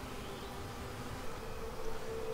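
Honey bees crawling inside an open beehive during the merging of two colonies into one bee barn, giving a steady, faint, close buzzing hum throughout, with no talking.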